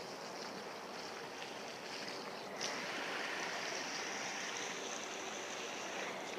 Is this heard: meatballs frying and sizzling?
no